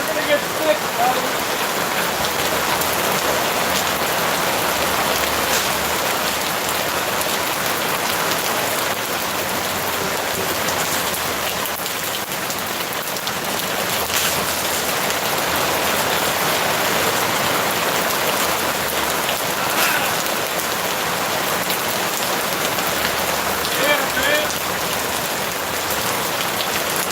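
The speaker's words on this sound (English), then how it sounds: "So sick of this fucking rain." Heavy rain pours steadily outdoors, a dense, even hiss of drops striking surfaces that runs unbroken throughout at close range.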